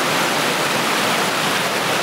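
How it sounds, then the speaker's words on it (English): A river rushes steadily beside a campsite in the Cascade Mountains, a loud, constant broadband roar of water with no voices and no breaks. "the river is right down here. That's close. You can hear it rushing."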